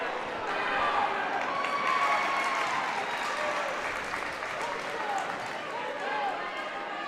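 Crowd at a high school Section 8AA wrestling semifinal, a steady wash of applause and cheering from a filling gym, with speech-like crowd murmur running under it throughout.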